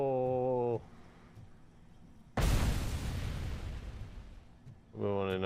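A grenade blast in Robocop: Rogue City erupts as a loud, close boom that decays into a long rumbling roar between stretches of voiced sound.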